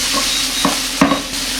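Sliced peppers and a medium carrot sizzle steadily in a hot pan with salt and MSG, a close crackling hiss broken by a few soft stirring scrapes.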